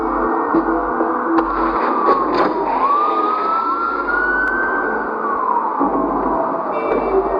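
Police car sirens in the Batman Telltale video game wail loudly and continuously, rising and falling over a steady engine rumble throughout, with no talking.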